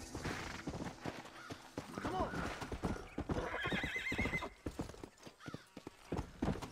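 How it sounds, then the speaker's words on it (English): Horse hooves clip-clop rhythmically while riding in the Red Dead Redemption video game, with a clear neigh and whinny partway through over a quiet game background. "Kind of hard to ride the horse though without falling off a cliff."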